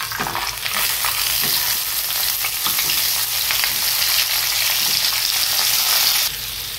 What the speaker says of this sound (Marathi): यामध्ये आपले हे वांग्याचे काप टाकून द्यायचे